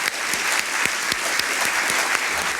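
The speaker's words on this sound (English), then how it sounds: "let's applaud his vulnerability" Audience applause after a question at a talk, a steady wash of clapping from a crowd with sharper individual claps scattered through it, sustained and fairly loud across the whole stretch.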